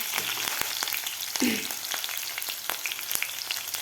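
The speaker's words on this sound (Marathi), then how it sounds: "मिरचीसुद्धा आपल्याला व्यवस्थित परतून घ्यायची आहे." Green chillies and garlic sizzle steadily in hot oil in a pan, with scattered clicks and taps of stirring over a continuous close frying hiss.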